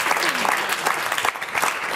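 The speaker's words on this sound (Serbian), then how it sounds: "Jedan onako mlak aplauz, dosta zgrčen" A studio audience claps with modest, somewhat half-hearted applause, a steady patter of hands at moderate loudness over a couple of seconds with small swells and dips.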